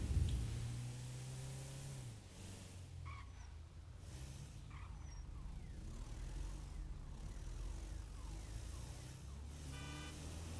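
A fire engine siren wails in a video game city, its rising and falling tone running over a steady bed of engine and traffic noise, fairly distant and without talk.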